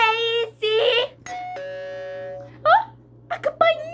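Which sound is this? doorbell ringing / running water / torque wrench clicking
doorbell ringing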